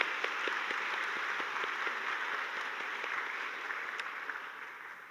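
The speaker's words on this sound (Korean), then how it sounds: "우리 감사의 마음을 다해서 박수 한번 칩시다." A church congregation at a Sunday worship service applauds the choir and soloists. The clapping is steady and crowded, heard from a moderate distance, and fades slightly toward the end.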